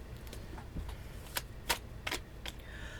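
A deck of playing cards is shuffled in a few quick riffling bursts, close and fairly soft, with no talking.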